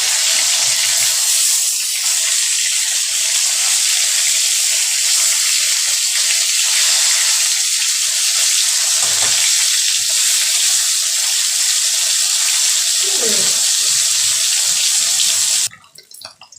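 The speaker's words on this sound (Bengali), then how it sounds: "একটু বেশি সময়ই লাগবে মাছটা ভাজতে" Snakehead fish frying in oil gives a loud, dense, steady sizzle that runs unbroken for most of the stretch, then drops off sharply near the end, with no voices.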